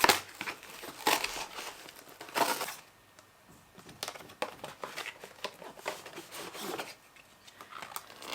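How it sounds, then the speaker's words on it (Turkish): A cargo package is pried open, its plastic and paper wrapping crinkling, crumpling and tearing in bursts with brief quieter pauses between. "Ve ben yine paketi açamıyorum."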